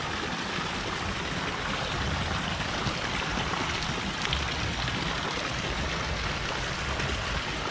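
Water pours steadily at Tegenungan Waterfall in Bali, a dense, constant rushing roar that is close and loud throughout, with no voices.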